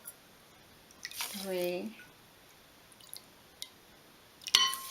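Water poured into a container for raw vegan chia cereal, a short gurgling pour with a rising tone lasting under a second, between quiet counting by a nearby voice.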